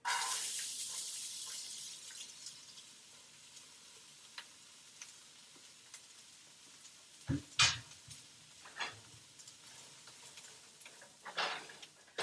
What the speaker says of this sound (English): So our oil is hot. Let's put in our onions.